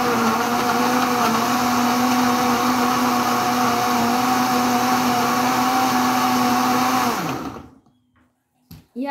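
A kitchen blender whirs loudly and steadily as it mixes a juice made with turmeric powder, holding an even motor pitch before spinning down and stopping, followed by a near-silent tail and a faint knock.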